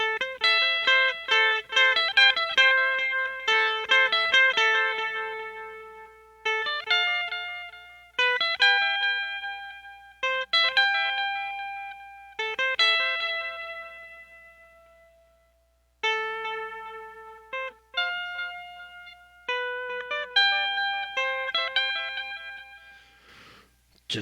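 Clean guitar notes picked one at a time in arpeggiated patterns, each phrase ringing and decaying, with brief pauses between runs and no talking.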